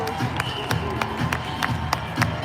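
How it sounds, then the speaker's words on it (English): A rally crowd at Target Center stands and cheers, a loud, dense roar of voices with scattered claps and sharp taps recurring throughout, close and continuous without a clear break. "Why is everybody standing and cheering?"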